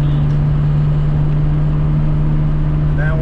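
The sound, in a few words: Nissan Z car driving at highway speed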